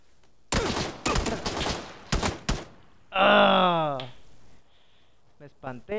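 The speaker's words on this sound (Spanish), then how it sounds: "Me espanté por los tiros." Gunfire in a video game: a few dense broadband bursts of shots in quick clusters, loud and close, followed by a groaning tonal sweep and a couple of sharp late hits.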